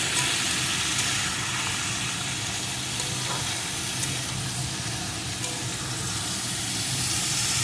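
Mixed boiled vegetables for a Bengali chorchori stirred and frying in a pan, a steady broadband sizzle running throughout with faint scraping, fairly close and even in level, no talk.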